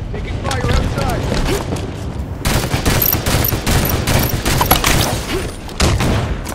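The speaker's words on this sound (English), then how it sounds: "Taking fire outside." Dense, loud automatic gunfire and explosive booms from a Halo 5: Guardians multiplayer match on the Eden map, with rapid overlapping bursts continuing throughout and a brief lull before the shooting resumes.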